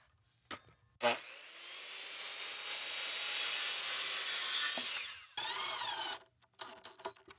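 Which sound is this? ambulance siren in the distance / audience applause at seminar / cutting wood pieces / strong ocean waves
cutting wood pieces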